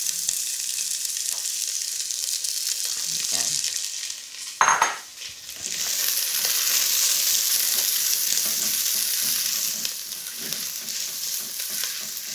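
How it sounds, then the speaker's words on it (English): Onions fry in hot oil in a pan for a lamb dhansak, giving a steady close sizzle throughout, broken midway by a brief stir and the clink of a utensil against the pan. "I'm going to heat up a little bit of oil and then just put my onions in there."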